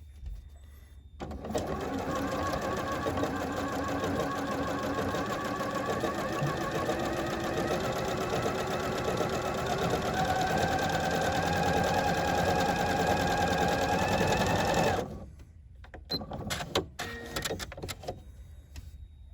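A bernette b38 sewing machine stitching a blind hem: fast, steady mechanical whirring and clatter running for about fourteen seconds, then stopping, followed by a few light clicks.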